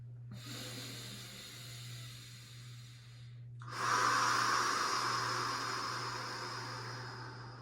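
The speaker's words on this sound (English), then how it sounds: "Breathing all the way in" Slow deep breathing in a yoga class, a soft airy inhale followed by a stronger, longer breathy exhale, close and quiet over a low steady hum.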